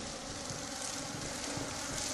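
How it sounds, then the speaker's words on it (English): Bees swarming in the video game Lethal Company, giving a continuous buzzing drone that hangs steady for about two seconds with no voices over it. "I'm kiting the bees!"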